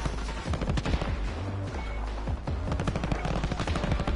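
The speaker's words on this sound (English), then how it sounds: "They're shooting, they're trying to shoot." Rapid automatic gunfire rattles in Call of Duty Warzone, loud, close bursts of machine-gun fire in quick succession with short pauses, no talking over them.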